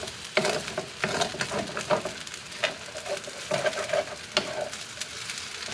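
Fried rice with egg and shrimp is stir-fried in a pan: a close, lively sizzle with frequent spatula scrapes and tosses coming in quick irregular bursts, with no talking.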